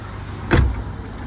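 A single short clunk as the engine compartment of a Porter truck is opened, one brief thud-like burst over a quiet outdoor background.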